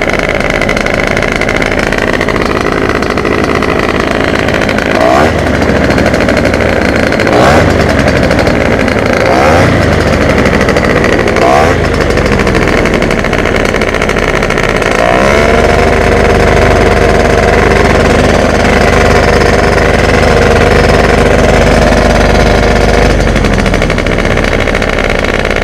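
A Raptor X engine starts and runs loudly and close for the whole stretch, a steady mechanical drone with a few brief surges and shifts in pitch and no voices.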